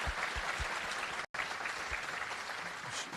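Steady applause from a crowd fills the clip, dense and continuous, with a brief cut to silence partway through.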